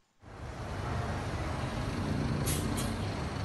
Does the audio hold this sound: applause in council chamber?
no